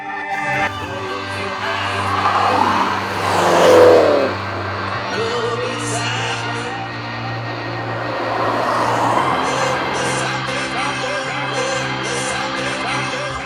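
A Mini Cooper S accelerating hard from 0 to 100 gives a sustained engine drone that rises and swells through the gears with shifting pitch, loud and continuous.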